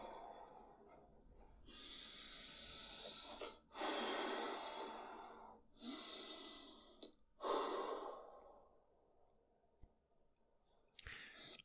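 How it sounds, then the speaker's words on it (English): A man slowly calming down after a panic attack breathes in long, drawn-out breaths, about five of them, each separated by a short pause. The breaths are close and soft, with a brief sniff near the end. "as he's getting more calm, those breaths are longer and they're not forceful as much"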